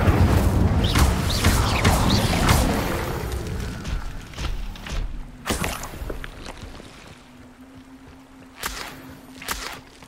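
An Incendio fire spell in Hogwarts Legacy bursts with a loud booming roar that fades into quieter crackles and a few sharp later hits, with no one talking.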